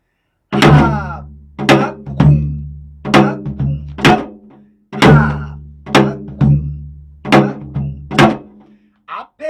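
Korean janggu hourglass drum played in the samjanggaebi rhythm, a lesson setting: sharp resonant strokes with deep booming hits in a steady repeating pattern, loud and close, with no talk.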